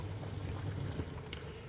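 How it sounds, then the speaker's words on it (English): Boil-in-the-bag rice simmering in a pan of water, a soft continuous bubbling and burbling with faint liquid churn, quiet and steady throughout. "The rice is a boil in a bag, so therefore that's what I'll be doing, and that's what you can hear."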